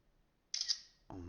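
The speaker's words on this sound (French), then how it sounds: "Allez, prendre une petite photo" The LeTV 1S smartphone fires a single quick, faint electronic camera-shutter click, and a voice starts speaking moments after.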